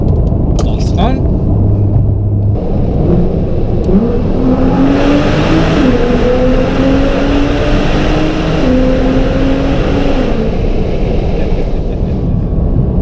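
A Nissan GT-R engine runs loudly nearby, its deep rumble climbing through several rising revs and settling back, with a voice briefly heard early on.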